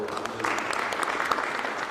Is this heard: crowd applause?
yes